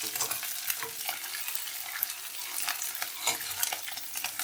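Continuous crackling sizzle of green chillies frying in hot oil, busy and close, with occasional spits and pops throughout.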